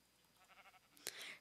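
Sheep bleats in a Minecraft-style FTB modded video game, a single short, faint bleat, quiet and a little distant, ending on a brief brighter burst.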